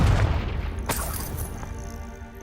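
A Confringo spell explodes in the wizarding video game Hogwarts Legacy: a loud, booming blast with a sharp crack, then a rumbling tail that slowly dies away.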